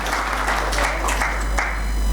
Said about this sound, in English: I'd like to request you all in a round of applause